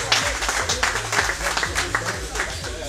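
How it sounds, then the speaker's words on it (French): A crowd at a K1 kickboxing weigh-in applauds a fighter, a lively wash of clapping with low booming music or crowd rumble underneath and voices mixed in. "On peut l'applaudir."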